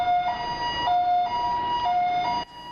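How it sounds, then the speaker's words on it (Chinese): An ambulance siren wails in a steady two-tone pattern, loud and close, arriving at a road accident scene in Taoyuan, then cuts off abruptly near the end. "救护车赶到现场"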